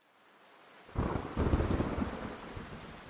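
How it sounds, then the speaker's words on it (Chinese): Heavy rain with a rumble of thunder: after a moment of near quiet, a dense downpour bursts in loud and close and keeps roaring steadily with low rolling thunder beneath. "忽然间落大雨，"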